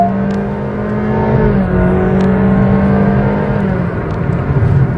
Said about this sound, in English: The naturally aspirated engine, bringing all the 4 cylinders to an absolute red line, and it picks up pace also quite well.